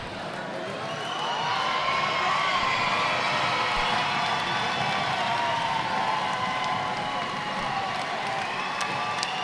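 An arena crowd cheers and roars for the Armenian men's national basketball team in a game against Costa Rica in California, a loud, steady wall of shouting and whoops that lasts the whole time.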